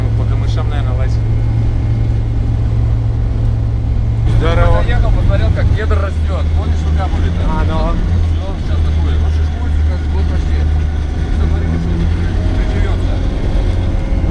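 A hovercraft carries riders along, its engine droning in a loud steady hum with a low tonal whine that shifts pitch partway through, while people speak over the continuous motor noise.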